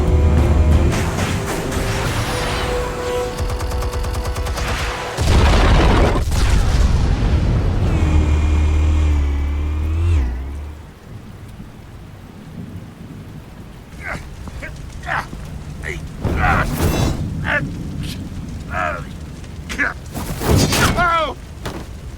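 Explosives detonate in Batman: The Telltale Series, a loud booming blast with a deep rumble amid dramatic game audio, followed by quieter scattered thuds and impacts while voices talk.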